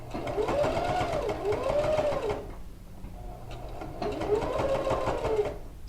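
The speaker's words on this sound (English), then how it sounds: "So I'm going to sew almost all the way up to that pin before I remove it" Sewing machine stitching a seam on a quilted coat, a steady close mechanical whir in two bursts with a brief pause between them.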